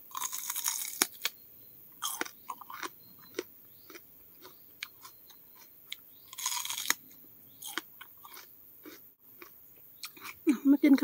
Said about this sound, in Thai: กัดคำแรก